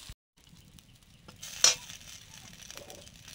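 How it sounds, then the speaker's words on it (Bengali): Nigella seeds crackle and sizzle in hot mustard oil in a pan for a small-fish curry. The faint, steady frying hiss swells into a brief louder sizzle with a utensil clink midway. "সর্ষের তেল দিয়ে কালো জিরে দিলাম ফোড়নে"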